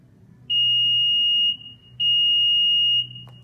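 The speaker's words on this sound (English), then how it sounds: "hold your automatic lift gate button until you hear 2 beeps" A Nissan SUV's automatic lift gate gives two long, steady high-pitched electronic beeps, each lasting about a second, separated by a short pause, with low background hum.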